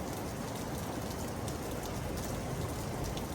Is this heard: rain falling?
yes